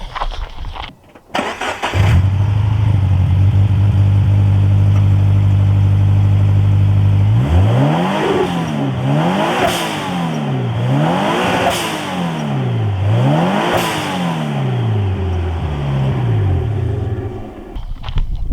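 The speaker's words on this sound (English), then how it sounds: "if you do decide to turbo your car, the sound is insane" A turbocharged Scion FR-S engine idles loudly, then revs hard several times in rhythmic surges, each climb falling back with a whoosh, close and powerful.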